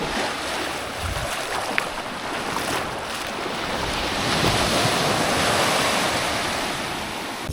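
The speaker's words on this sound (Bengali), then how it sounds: "দেখো খালি আসছে ঢেউগুলো" Sea waves roll steadily onto the beach at Mousuni Island, a continuous broad wash of surf with gentle surges, mixed with wind rumbling against the microphone and no voices.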